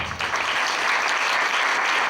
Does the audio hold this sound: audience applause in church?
yes